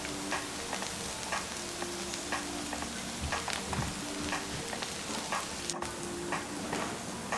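Brussels sprouts roasting in a hot pan and being turned with a utensil, a steady close sizzle broken by scattered clicks and scrapes as they are flipped.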